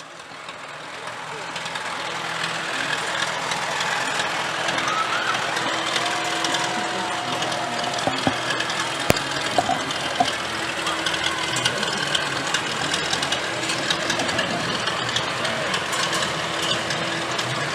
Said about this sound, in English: These are some classic tractors coming up.